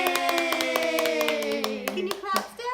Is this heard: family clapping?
yes